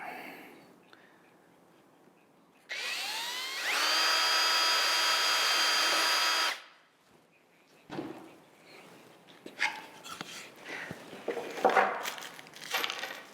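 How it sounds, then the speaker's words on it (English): A power drill whirs loudly and steadily for a few seconds as the bit sinks into wood, then winds down, followed by close handling noises and scraping. "once the drill bit sinks and taps, and I want two hands on it"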